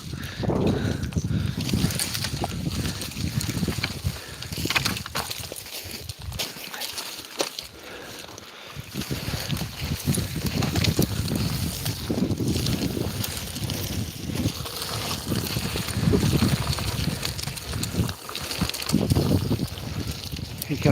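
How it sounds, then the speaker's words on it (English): Wind gusts at an outdoor camp spot, heard as steady rumbling buffeting with strong low-end microphone wind noise that eases briefly midway and then surges again, loud and close. "Here comes the wind."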